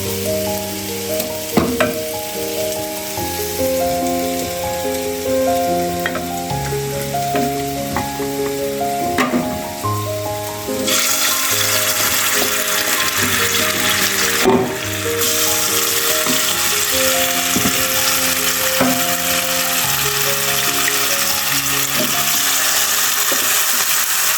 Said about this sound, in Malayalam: അപ്പോൾ നമുക്ക് ചൂടായ എണ്ണയിലേക്ക് ഇട്ട് കൊടുക്കാം.